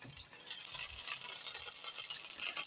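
Zucchini coated in breadcrumbs, flour and cold water crackles and sizzles in a hot pan, a steady spattering hiss with small pops.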